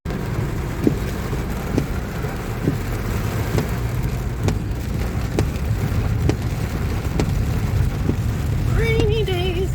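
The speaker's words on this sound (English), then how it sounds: "Rainy days." Rain falls steadily on a rainy day, a constant loud wash of noise with faint regular ticks throughout and a brief tonal sound near the end.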